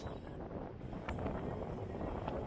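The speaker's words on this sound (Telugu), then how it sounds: "చల్ల గాలి అయితే బాగా తగులుతుంది." A cool wind blows across a hilltop above a beach, a steady low rumbling roar of wind buffeting the microphone that rises slightly partway through, with no one talking.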